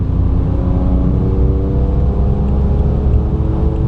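BMW E90 335i with the N54 twin-turbo engine held in fifth gear and revved, giving a steady, loud, droning engine hum with a rising harmonic tone throughout, close and continuous.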